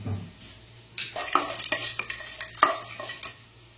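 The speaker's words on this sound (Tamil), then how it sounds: "எண்ணெய் காஞ்சோடனே ஏலக்காய், கருவாப்பட்டை இதெல்லாம் போட்டுக்கோங்க." Cardamom and cinnamon frying in hot oil in a pan, a close steady sizzle broken by sharp scrapes and clinks of a stirring spoon against the pan.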